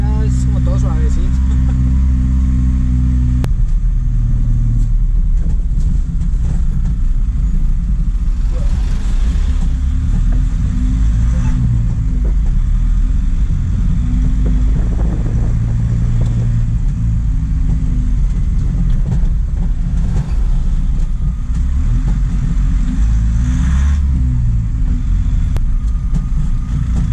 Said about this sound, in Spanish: El motor como que se compresiona más y suena tan lindo